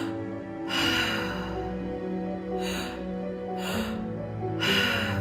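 Three-part breathing exercise during a group breathwork session: repeated audible breaths in bursts over a steady background hum, with a faint voice mixed in.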